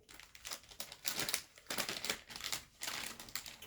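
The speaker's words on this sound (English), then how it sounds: "I will be okay with actually opening this top portion as long as I don't break the zipper seal." A zipper-sealed plastic bag from a bin store haul being pulled open at the top, giving loud, close crinkling and rustling in repeated bursts with brief quiet gaps.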